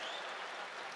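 Audience applause at a poetry recital, a steady dense wash of clapping, faint and continuous throughout.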